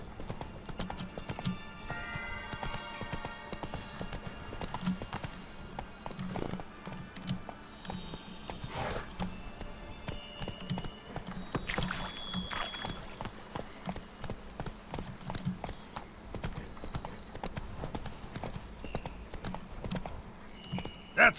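Roach the horse gallops in the Witcher 3: Blood and Wine video game, with steady rhythmic hoofbeats drumming continuously at close range alone throughout.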